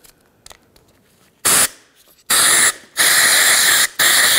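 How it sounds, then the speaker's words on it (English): Compressed air blasts through the fuel system hoses of a car whose gas pump keeps shutting off during filling. Four loud, close bursts of rushing hiss are separated by quiet gaps and a few faint clicks. "I'm using compressed air and I'm blowing through all these hoses and things like that"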